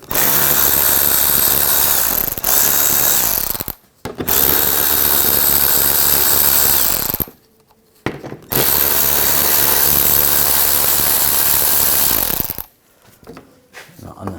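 Close mechanical whirring and ratcheting as fasteners on the underbody panel of a 2000-2006 BMW X5 are backed out with an 8mm socket, in long loud bursts broken by brief pauses.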